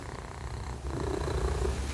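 A pet cat purrs close up, a steady low rumbling purr that grows slightly louder in the second half, with no talking over it.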